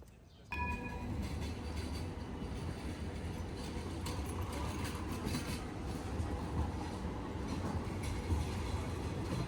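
A tram in Istanbul rolls past nearby, a loud continuous rumble with clattering wheels that starts abruptly and holds steady to the end.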